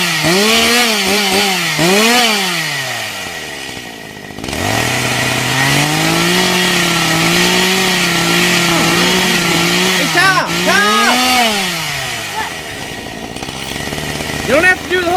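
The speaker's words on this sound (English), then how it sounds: "my new chainsaw came in today" A new chainsaw cuts into a tree, its engine revving up and down in loud sweeping surges, dropping briefly before climbing again, with voices talking over it.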